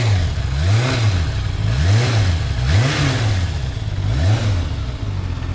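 A Honda CBR400RR NC23 track bike's four-cylinder engine runs close and loud, its revs rising and falling in a steady repeating pattern about once a second, smooth and continuous with no talking.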